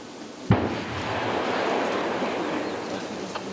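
A single heavy explosion of buried World War II ordnance booms at a distance, followed by a long rushing roar of debris and rumble that slowly fades.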